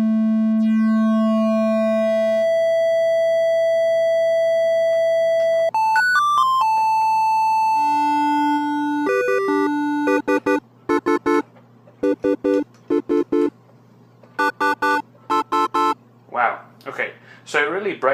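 A Microkorg synthesizer oscillator playing steady sustained tones, then stepping through pitches with an added overtone an octave and a fifth above, ending in rapid repeated short notes; loud, clean and alone, with no talk.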